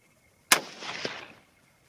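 A single loud, sharp 6mm ARC rifle shot fired during velocity testing, followed by a short echoing tail that fades within a second.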